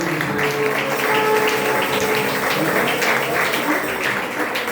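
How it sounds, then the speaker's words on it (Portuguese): A church congregation claps along during Portuguese worship, a dense steady patter of many hands filling the room, with singing or speaking voices mixed in throughout. "Aplauda Jesus."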